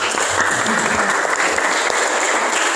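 A class of students applauds a group's presentation in a school classroom, a steady burst of clapping lasting a few seconds with no talking over it.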